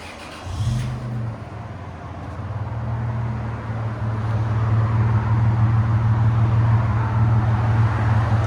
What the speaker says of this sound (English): Toyota 4Runner 2002 V6 with a Flowmaster 40 series